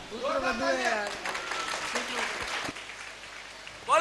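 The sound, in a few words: audience applause at stage program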